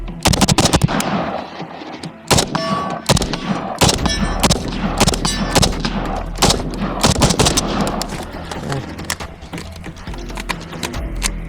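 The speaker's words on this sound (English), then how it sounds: "Yeah, let's get a little bump fire." Rifle bump fired at a range with TelaAmmo 7.62×39 ammunition, loud sharp reports in ragged rapid bursts and scattered single shots with metallic clinks, close to the microphone and ringing out between volleys.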